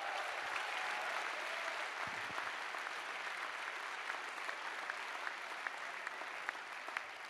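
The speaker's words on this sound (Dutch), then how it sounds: "En een groot applaus voor de excellente scholen HAVO." A hall audience applauds at an awards ceremony for excellent schools, dense steady clapping at moderate distance that carries on evenly for several seconds without speech.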